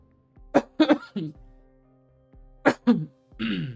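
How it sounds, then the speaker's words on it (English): A person clears their throat in a few short rough bursts, close and fairly loud, with a voice heard in between during a gaming stream. "Let me clear my throat 1 second."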